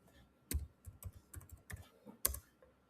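Fingers tap out a password on a computer keyboard, a short burst of about a dozen crisp, uneven keystrokes with one or two sharper presses, close and quiet in an otherwise still room.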